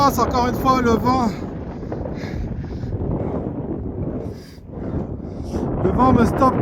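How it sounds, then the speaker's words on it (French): Loud gusty wind buffeting the microphone in a steady roar in the Sahara desert while cycling, easing for a moment before rising again, with someone speaking over it. "Ça recommence encore une fois le vent."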